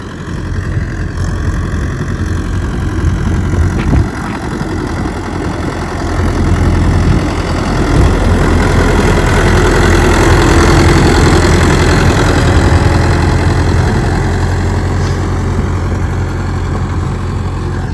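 A farm tractor engine idles loudly and close for the whole stretch, a constant low throbbing drone with a slight swell partway through and no voices.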